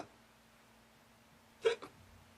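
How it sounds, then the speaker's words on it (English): A single person's hiccup, a sharp close burst followed by a smaller second catch, in an otherwise quiet room during a short English lesson. "what I'm doing right now is called a hiccup"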